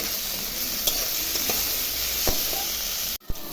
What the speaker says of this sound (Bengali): এখন বটবটি আলুগুলোও ভেজে নেব।